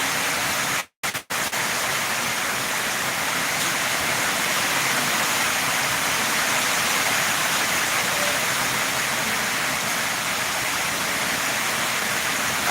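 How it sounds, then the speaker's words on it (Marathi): Steady, dense roar of heavy monsoon-style rain pouring continuously, loud and unbroken, with a brief dropout near the start. "पावसाचा आवाज ना हा"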